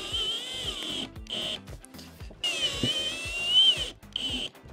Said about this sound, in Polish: Teraz bierzemy się za dokręcenie jeszcze tutaj wkrętów.